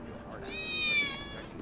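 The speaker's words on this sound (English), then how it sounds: "I swear I just heard a cat." A cat meows once inside the Final Fantasy 7 Remake video game, a drawn-out, rising and falling cry of medium loudness over background game sound and other noise.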